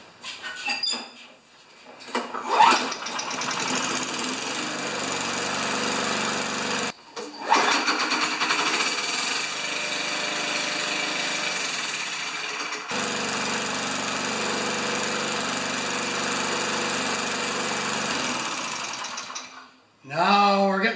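A Craftsman lawn mower engine fitted with a new muffler runs a little slow, a steady close buzzing drone with a brief stop and restart partway through, then cutting off near the end, with no talking over it.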